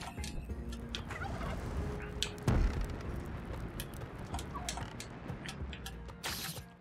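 Turkey gobbling in the video game Spelunky 2, a bird-like gobble call heard alone over a quiet game backdrop, with a few short bursts and one louder thump partway through.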